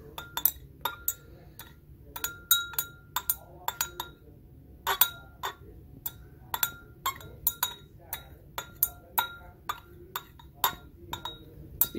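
Rapid glass clinks as a rod stirs hydrochloric acid mixed with copper(II) oxide in a lab beaker, irregular sharp taps throughout, close and fairly quiet over low background hum.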